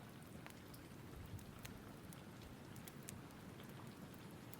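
Steady rain falls outside at night, a soft, even hiss with scattered distinct droplet ticks and taps, faint and continuous with no voices.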